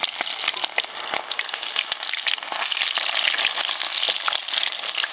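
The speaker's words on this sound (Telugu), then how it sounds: "ఒక ఉల్లిగడ్డ వేసుకుందాం ఇలా" Onion frying in a pot over an open fire in a forest, with mustard seeds already in, crackles as a dense, steady, close sizzle with no talking.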